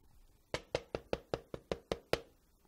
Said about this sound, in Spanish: Tocó la puerta de su casa.